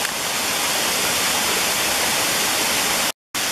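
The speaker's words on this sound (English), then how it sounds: "There's supposed to be another waterfall beyond this one, smaller one" Steady, broadband roar of the Swatara Falls waterfall on a creek in Schuylkill County, Pennsylvania, constant and close, cutting off abruptly just before the end.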